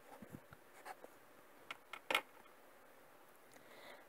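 Pen strokes of someone handwriting a Khmer numeral on paper: a few soft, scratchy marks and taps spread over four seconds, with one brief louder stroke near the middle, quiet and close with no talking.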